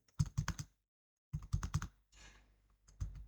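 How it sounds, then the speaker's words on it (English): Quick bursts of typing on a computer keyboard while entering text into a spreadsheet cell, with clustered close key clicks, a one-second pause, then another run of keystrokes. "Click on cell A59 and then we'll type garbage man."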